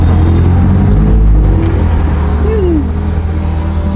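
An Audi R8 sports car pulling away, its engine rumbling loud and close with a brief rising rev, while people talk nearby.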